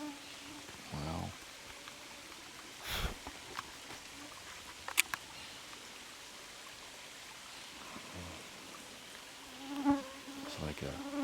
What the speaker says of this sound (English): 100 mosquitoes around me right now,